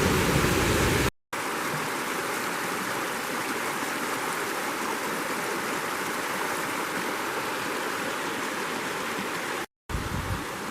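A creek flowing beside a hiking footpath along a trail toward Rock Creek Falls on Unaka Mountain, a steady broadband rush of running water heard nearby, briefly cut out twice, with no talking.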